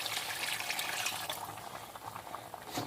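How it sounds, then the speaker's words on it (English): Fresh water poured into a simmering pot of bacalao and pork ears, a steady close rushing splash that continues without pause and with no talk. "we go ahead and add in another 16 ounce of clean fresh water"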